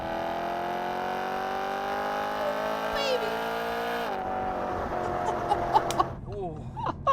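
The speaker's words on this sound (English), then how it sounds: "there is nothing wrong with the way that this engine sounds" A BMW E92 M3 V8 revving toward its 8,600 RPM redline, a rising, steady harmonic whine that climbs over several seconds, then drops off abruptly as the engine settles with some blips.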